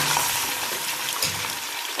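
Two kilos of mutton fry in hot oil in a pan for karahi, giving a strong, steady sizzle with a few soft stirring bumps, heard up close and uninterrupted.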